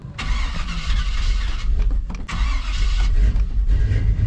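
A truck engine cranks and catches twice, with loud starter churning, a brief cutout, then a rough, rumbling idle close by.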